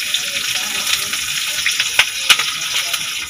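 Chopped onion, ginger, garlic and green chili hit hot oil with a steady crackling sizzle, broken by a couple of sharper pops and clatters near the end, with no voices.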